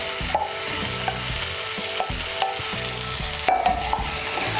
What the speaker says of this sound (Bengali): এখন এর মধ্যে আমি দিয়ে দেবো ভেজে রাখা আলুগুলো।